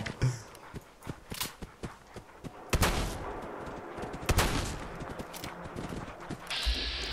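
Shotgun blasts go off in the video game Fallout 4 during a raider fight. There are two loud booming shots a couple of seconds apart, amid smaller clicks and thuds of the game.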